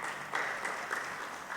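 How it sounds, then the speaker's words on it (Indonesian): A church congregation at a Sunday worship service breaks into dense, continuous applause, a steady wash of many hands clapping together with brief swells. "Tepuk tangan bagi Tuhan."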